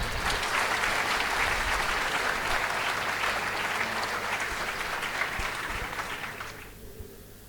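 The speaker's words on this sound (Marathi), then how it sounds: "महाले साहेबांसाठी जोरदार टाळ्या देऊया" Sustained, loud applause from an audience at a company opening ceremony, steady massed clapping that continues for several seconds before tapering off and fading out near the end.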